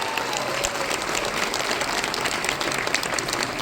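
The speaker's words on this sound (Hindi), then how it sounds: "आपकी जोरदार तालियों के साथ राज्य के यशस्वी ऊर्जावान मुख्यमंत्री श्रीमान पुष्कर सिंह धामी जी का।" Loud, sustained audience applause at a state silver jubilee event in Dehradun, Uttarakhand, as the chief minister arrives; dense steady clapping fills the whole stretch without a break.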